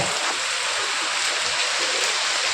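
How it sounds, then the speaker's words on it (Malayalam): Steady heavy hiss of falling rain, dense and constant, filling the whole stretch without any talking. "പുറത്ത് നല്ല മഴയാണ്"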